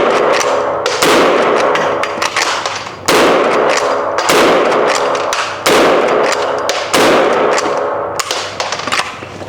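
A brand-new lever-action rifle chambered in .45 fires repeatedly at a trade show, sharp loud booms spaced about a second or so apart, each followed by decaying ring and the clatter of the lever being cycled.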